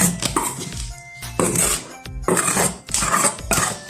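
Coconut being mixed into roti dough in a bowl gives repeated clinks and scrapes of a utensil against the bowl in several bursts, with short pauses between them.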